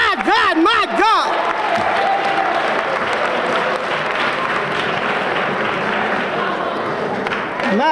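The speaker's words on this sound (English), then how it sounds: "Let's give her another hand clap." Sustained audience applause fills a hall at a women's awards ceremony in Jersey City, dense continuous clapping with some cheering, loud and even, with a voice calling out briefly at the start.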